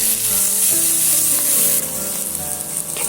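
Loud, steady sizzling of spices frying on low heat in hot oil with onion paste, close up, with a faint hum in the background and no voices.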